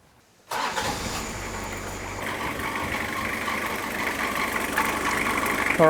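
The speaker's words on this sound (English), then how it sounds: "You can hear those squealing belts I was talking about" A Toyota Cresta left sitting for ten years starts up and settles into a rough idle close by, its loose belts squealing steadily over the engine's hum.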